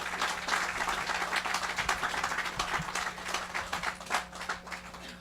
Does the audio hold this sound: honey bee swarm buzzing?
no